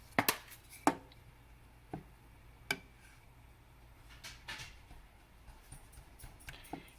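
Knife chopping vegetables in half on a cutting board while making a vegan soup at home; a few sharp, separate knocks near the start, then fainter scattered taps against quiet kitchen background.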